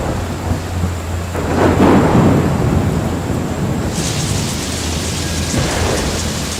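Heavy rain pours steadily while a low roll of thunder swells and fades, a dense outdoor storm with no voices.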